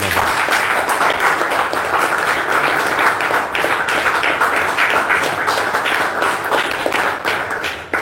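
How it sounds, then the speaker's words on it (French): Church congregation applauding together, a dense, steady wash of clapping that fills the space from start to finish and fades slightly at the very end. "Applaudissons pour le Seigneur Jésus-Christ."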